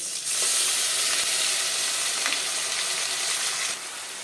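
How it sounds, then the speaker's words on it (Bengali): Onion and ginger paste hits hot oil seasoned with dried red chillies and radhuni, giving a loud, steady, hissing sizzle that swells at the start, holds, then eases slightly near the end. "প্রথমে আমি পেঁয়াজ বাটা আর আদা বাটাটাকে ভালো করে কষাবো"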